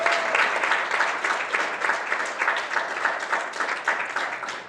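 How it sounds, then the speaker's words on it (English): Sustained audience applause at a Martin Luther King Day gathering: a dense, even wash of many hands clapping, steady and moderately loud throughout with no talk over it. "I think that we should applaud them for their efforts."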